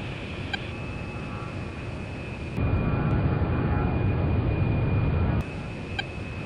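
An A-10A jet breaking away from a refuelling tanker, heard as a steady broadband engine roar that swells louder for a few seconds mid-clip before settling back to a constant airborne rush.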